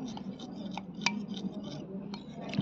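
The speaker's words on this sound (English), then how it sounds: "Diye ebare ei ingredients gulo ke bhalo kore mix kore nilam." Salad dressing ingredients, including mustard powder, being mixed in a bowl: light clinks and scraping of a utensil against the dish, steady and close, with faint background noise and no clear talking.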